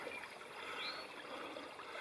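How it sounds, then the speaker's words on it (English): A small creek flows steadily beside a bog in the Crest Zone of Mount Rogers National Recreation Area, giving a soft, continuous babble at moderate distance with no talk. "Nice little creek here."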